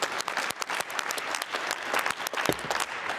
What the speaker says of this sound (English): Ladies and gentlemen, a round of applause, please, for these 2 fighters.